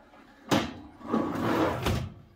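The storage drawer of a vintage Magic Chef 1000 series stove slides open with a sharp thud, a rolling metal scrape and a final knock, heard close up with no talk.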